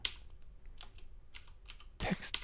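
Typing on a computer keyboard, a few sparse, soft keystrokes up close, then a quicker, louder cluster of clicks near the end, with light room noise between.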